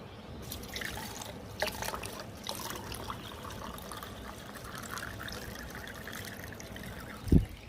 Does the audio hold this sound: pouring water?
yes